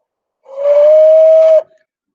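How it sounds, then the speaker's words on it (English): A single sustained whistling tone from a brass instrument mouthpiece rises slightly and holds for about a second before cutting off, breathy and loud against silence. "now that I have the mouthpiece whistling"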